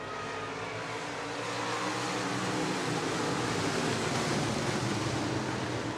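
Several stock car engines at Buena Vista Raceway roar together as the green flag drops, a dense, steady wall of engine noise that stays loud and constant, with no voices on top.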